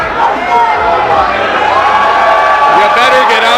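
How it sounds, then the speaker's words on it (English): A wrestling crowd at the Longboat Hall cheers and roars continuously, a loud dense wall of shouting and whooping, with a commentator talking over it. "Crowd loving it here at the Longboat Hall"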